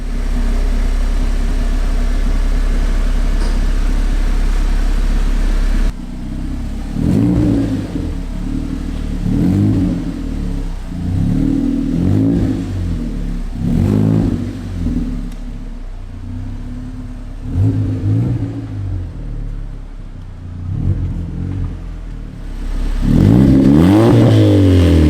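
A turbocharged Porsche 911 with a swapped Honda K24 engine idles loudly, then is revved repeatedly in rhythmic rising bursts, close by, ending with a stronger rev.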